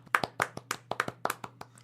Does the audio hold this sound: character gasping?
no